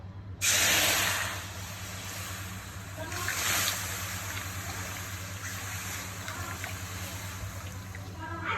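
Orange pieces dropped into a hot wok for orange chicken, a sudden loud sizzling hiss that bursts in, swells again briefly, then settles into a steady frying crackle.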